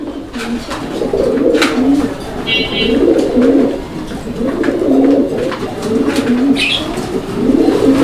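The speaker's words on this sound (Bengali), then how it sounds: "কবুতর দেখেন" Pigeons coo in a steady, repeated rhythm at a bustling pigeon market, the low throaty calls rising and falling close by while a few faint chirps slip in over the background bustle.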